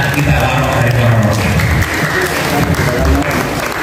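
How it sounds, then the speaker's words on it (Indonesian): Loud, dense applause from the crowd at a halal bihalal gathering in Bali, hands clapping steadily close by with a murmur of voices mixed in. "kita tepuk tangan untuk Pak Broto"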